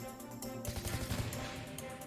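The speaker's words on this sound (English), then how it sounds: "a gunshot rings out in my ears" Rapid gunfire bursts in the horror video game Paranoia Zanatorium, loud and dense over a busy game soundscape, with no talking.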